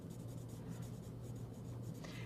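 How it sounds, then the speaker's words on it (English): Colored pencils drawing and blending on paper: a continuous, close scratchy rasp of pencil leads overlapping strokes, steady and fairly quiet, with no voice. "I can do that by just overlapping the color as I use these two different pencils"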